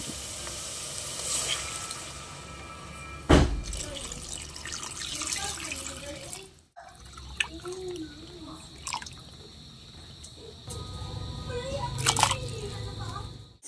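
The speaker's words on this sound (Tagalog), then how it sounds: "pwede na tong lagyan ng tubig" Water poured into a pot of pork that has been frying in its own rendered fat, a soft trickling and splashing with occasional drips and brief louder bursts.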